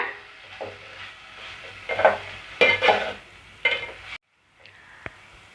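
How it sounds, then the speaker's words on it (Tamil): Tomato and mint sautéing in a pan for potato and pea kurma, stirred over a low flame: intermittent close scraping and soft sizzle strokes, a few louder stirs in the middle, then a brief quiet stretch. "அது வரைக்கும் நம்ம வதக்கி விட்டுட்டே இருப்போம்"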